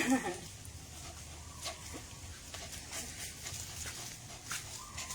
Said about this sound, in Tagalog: Hinihingal na siya.